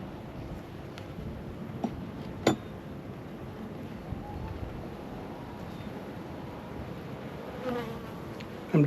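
Honeybees hum around a Flow Hive in a continuous low drone all around, with a few faint clinks and taps now and then.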